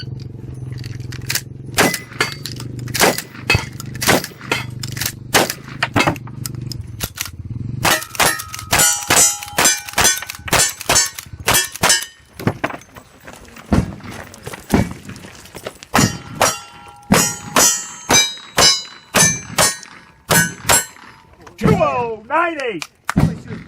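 Cowboy action shooting match with gunshots ringing off steel targets: a long run of sharp reports, each followed by a metallic clang, coming in quick strings and irregular bursts, with brief talk in places.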